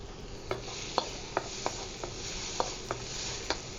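Garlic and then onion dropped into peanut oil heated to 450 degrees, with a faint steady sizzle under spaced utensil taps and scrapes against the pan, about one every half second.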